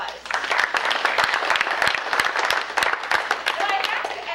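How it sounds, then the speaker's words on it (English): A Rotary club gathering gives its members a round of applause, a crowd clapping steadily with sharp individual claps standing out near the listener, mixed with murmured voices. "a round of applause"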